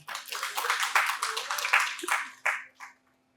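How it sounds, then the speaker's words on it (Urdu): Applause from an audience at a keynote speech comes as a short burst of clapping that swells, holds for about two seconds and then dies away into quiet, over a faint steady hum. "تالیاں بجا دیجیے اسی بات"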